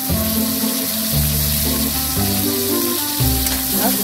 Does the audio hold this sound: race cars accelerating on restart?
no